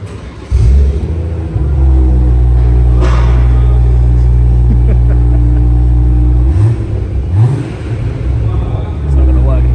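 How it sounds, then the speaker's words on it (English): A BMW M140i fitted with a Scorpion OPF-back exhaust fires up and settles into a loud, deep rumbling idle, with a couple of brief revs near the end. Voices talk faintly in the background. "The OPF back Scorpion exhaust is on the vehicle, just about to get it started for the first time"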